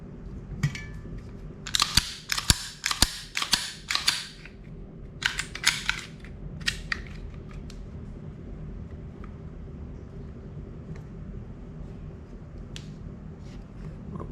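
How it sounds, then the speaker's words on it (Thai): A Bul Armory SAS II Ultralight 9mm pistol is checked and cleared, producing bursts of close, sharp metallic clacks and slide racks in the first half, then sparse faint clicks over quiet room tone. "ขออนุญาต ตรวจปืนดูก่อนนะครับ"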